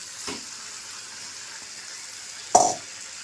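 Beef goes into spiced oil in a pot, with a faint low sizzle and then a sudden louder hiss and splash near the end as the meat lands, dying away afterward.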